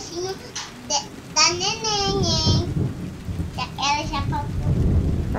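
Rain falls steadily with low rumbles of thunder underneath while a child and an adult talk over it in close, high voices.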